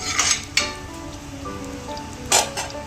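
Tempering spices crackle in hot oil in a pan, a steady close sizzle with a few louder bursts of spattering popping near the start and again toward the end.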